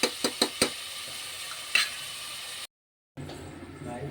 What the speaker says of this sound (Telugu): చూడండి, నేను మటన్ అయితే వేసేసాను. ఇక చూడండి, బాగా ఫ్రై అవుతుంది.